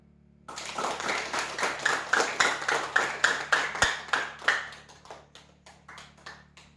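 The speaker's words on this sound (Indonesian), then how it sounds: "Kita beri apresiasi untuk teman kita, tepuk tangan" A small group of schoolchildren claps in a steady, quick rhythm in a classroom, each hand clap distinct and close, the beat holding for several seconds before thinning into a few scattered last claps.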